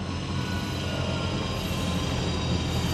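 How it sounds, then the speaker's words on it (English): A train rolls into a station in the Apex Legends Mobile game, a steady broadband rumble of wheels and carriages holding level and fairly loud throughout with no voices over it. "Hey, the train's here."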